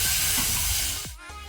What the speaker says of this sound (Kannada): ಟೊಮೆಟೊ ಸ್ವಲ್ಪ ಫ್ರೈ ಆಗಲಿ.